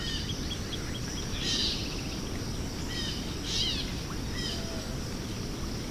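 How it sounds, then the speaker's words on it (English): A mourning dove coos softly at a distance over a lakeside morning on Blue Marsh Lake, with scattered bird chirps and a steady bed of frogs and insects. "Mourning dove."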